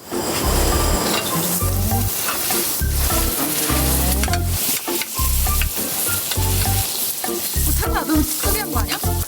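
Bread frying in a hot pan at a campsite, a loud steady sizzle with crackling and scraping stir sounds throughout, close up and continuous with no talk.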